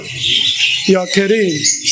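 At a songbird market, caged birds such as lovebirds and canaries chirp and tweet steadily in the background while someone talks close by.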